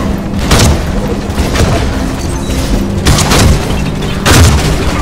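Cluster cannon blasts in a Mass Effect mod of Battlefront 2 boom repeatedly, several heavy explosions spaced a second or so apart over a rumbling battle background, loud and with no speech.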